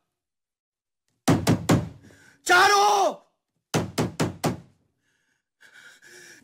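Someone pounds on a door in a TV series scene with two rapid bursts of heavy knocks, three or four blows each. A loud shouted call comes between them, and a faint voice follows.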